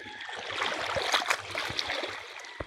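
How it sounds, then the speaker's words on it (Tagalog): Sea water splashes and sloshes close by as someone wades and bathes at a seaside shore, a busy irregular spatter with small plops and no talk. "Sarap magtampisaw sa dagat."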